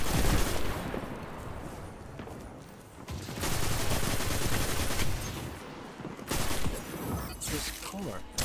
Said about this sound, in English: It's quite a kick this gun has.